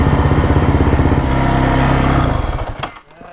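A trail motorcycle engine revs hard and loud during an Iowa trail ride, a steady buzzing roar that holds for about two seconds, then drops off and fades out.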